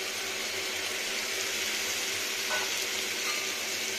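Steady, soft sizzling of spice paste frying in oil with onions for a Malabar spinach dish, continuous and fairly quiet, with no talking.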